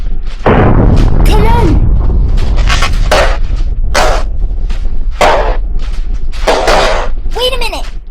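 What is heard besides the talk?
ship's cannon shooting at a stockade, radio drama effect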